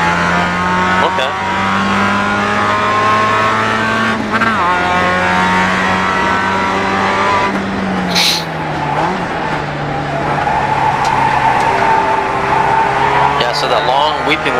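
A race car engine in the iRacing sim racing game drones steadily throughout, rising and dropping in pitch through lifts and downshifts, with brief tyre squeal and talk over it.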